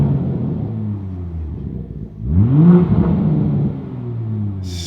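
A manual Toyota Mk5 Supra revs inside an echoey shop, a loud close engine swelling from a low idle rumble into a rising blip and settling back, with no one talking over it.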